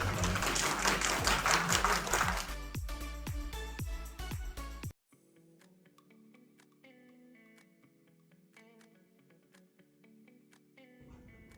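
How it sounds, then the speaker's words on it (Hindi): An audience at a New Year event applauds loudly for about five seconds, the clapping cutting off abruptly into quiet, sparse tonal sounds. "जोरदार तालियां बजा के सर"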